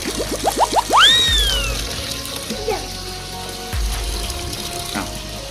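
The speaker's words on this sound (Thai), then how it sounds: "รอให้ น้ำท่วมพื้นด้านล่างก่อนแล้วค่อยใส่ผ้า" A washing machine with a drain fault, one that won't spin dry or finish its program, fills with a steady rush of running water, with brief voices and chirpy sounds near the start.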